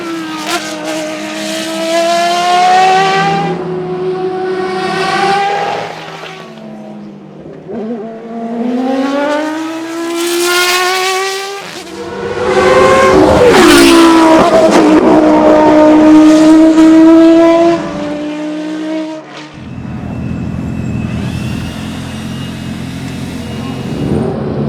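A V10 Le Mans prototype race car howls past at full throttle during a shakedown, its pitch climbing through gears and sweeping down as it goes by, then settling to a steady idle.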